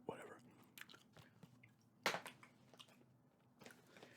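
ASMR gum chewing, close and quiet: wet, sticky chews and small crunchy clicks at an irregular rhythm, with one louder smack midway, and no talking.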